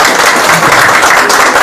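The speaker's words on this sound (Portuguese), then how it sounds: "dar uma salva de palmas para eles." A church congregation breaks into loud, dense applause, many hands clapping together close around the listener in a continuous burst.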